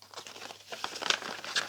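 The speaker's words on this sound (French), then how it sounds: "Ensuite, on vient ouvrir notre sachet." Crinkly plastic packet being opened by hand during a craft project, with close, soft rustling that sharpens into a few brief crisp crackles.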